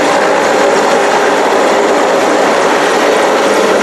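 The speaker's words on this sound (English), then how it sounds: "soldiers descend rapidly from the hovering helicopter" Loud, steady broadband roar of a hovering military helicopter as soldiers fast-rope down at a Ghana Independence Day demonstration, close by and continuous, with dense rotor and engine noise and no voices.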